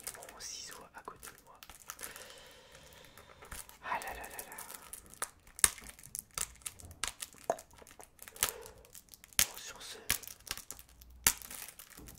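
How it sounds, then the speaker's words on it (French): Plastic film being peeled off a newly bought item, crinkling and tearing in soft bursts near the microphone, with sharp crackles and pops, mixed with close whispering. "Encore ce fichier plastique à enlever, toujours la même histoire."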